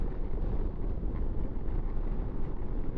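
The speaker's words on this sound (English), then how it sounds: "that wind over that motorway is horrendous" Strong wind beside a motorway buffets the microphone in a dense, steady roar with constant low rumbling gusts and no clear voices.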